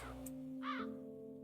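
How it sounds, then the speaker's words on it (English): A crow caws once in the video game Havsala: Into the Soul Palace, a short raspy call rising mid-clip over a steady low ambient drone and hum. "I guess I heard the crow because I'm just clicking around."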